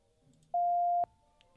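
A single steady electronic dispatch radio tone from a GTA V roleplay session sounds clearly for about half a second, then ends in a sharp click, with only faint background hiss around it.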